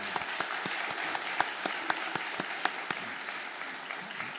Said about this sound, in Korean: 자, 이럴 때에 이제 박수 칠 텐데요.